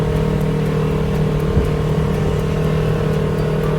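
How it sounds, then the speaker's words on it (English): Dune buggy engine driving across desert sand, a loud steady mechanical hum and whir close up, with a small bump midway and no speech. "Riding a buggy in the desert is an unmatched experience."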